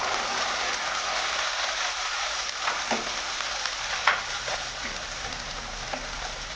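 Tomato paste fries in hot oil with browned onions for pav bhaji, giving a dense, even sizzle and crackle close up, with occasional stirring knocks and no talking.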